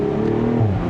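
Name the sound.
BMW Z4 M40i exhaust pops and crackles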